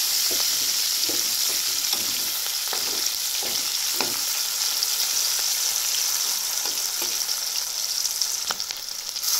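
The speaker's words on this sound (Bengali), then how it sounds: "পেঁয়াজটা নেড়ে ভেজে নিতে হবে।" Chopped onion stir-frying in hot oil in a pan while a spicy quail roast is being prepared, with a steady loud sizzle and soft scraping stirs throughout.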